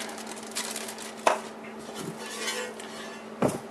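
A heavy cast aluminum automatic transmission pan for a Turbo-Hydro 400 is handled, giving two distinct metallic clunks several seconds apart over faint background noise.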